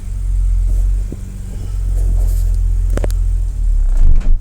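A 2000 Honda car engine revs under throttle, a loud, close, low rumble that climbs and holds, dips briefly, then swells again before a final surge and cut-off. The engine may have a fuel fault. No one speaks.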